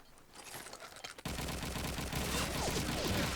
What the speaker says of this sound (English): Swalker firing off that MP44